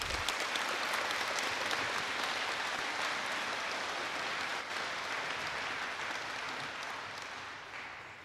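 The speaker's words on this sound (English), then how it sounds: "I think they deserve a round of applause." Audience at a town hall meeting applauding, a dense wash of clapping that holds steady for several seconds before slowly fading.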